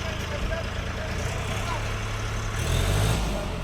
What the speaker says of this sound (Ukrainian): Ось як люди у нас роблять, тестують тракторця.